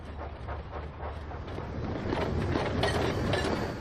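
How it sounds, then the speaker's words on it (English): Mavis, a diesel engine, shunts freight cars with a steady, dense rumble and clatter of wagons rolling nearby, which grows slightly louder toward the end. "Mavis is shunting freight cars too."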